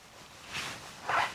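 Two quick zipper pulls on a trouser pocket, one short and one slightly longer and louder, close up and with no talking.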